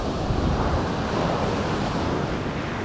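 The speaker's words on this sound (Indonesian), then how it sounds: "Pantai Watu Karung, salah satu pantai yang ada" Surf breaks at Watu Karung beach in Pacitan, a continuous, loud wash of waves with wind buffeting the microphone and no voices.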